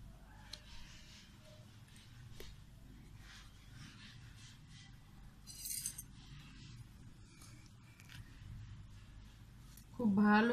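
A spoon stirs a homemade clay mixture in a container, giving light intermittent clinks and soft scraping at close range, with a louder scrape near the end.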